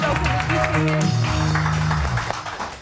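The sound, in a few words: studio audience applause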